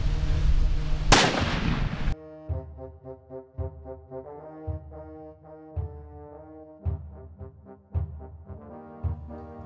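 One sharp, loud rifle shot at an outdoor shooting range during a sight-in, followed by sustained musical tones.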